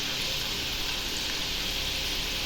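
Kaarasev snack dough fries in hot oil with a dense, continuous sizzle heard up close. The crackling stays even and unbroken throughout, with no voices over it.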